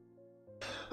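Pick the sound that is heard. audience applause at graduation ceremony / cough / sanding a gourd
cough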